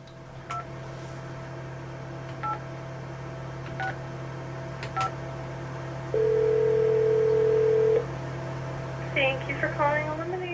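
Telephone keypad tones beep one at a time at an uneven pace over a steady electrical hum, followed by a long continuous dial-type tone, then a brief spoken phone greeting at the end.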